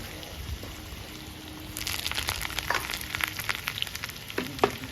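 Paneer pakoda frying in hot oil outdoors, a crackling sizzle that swells after a quieter start into busy popping and bubbling, close and steady with sharper spits near the end.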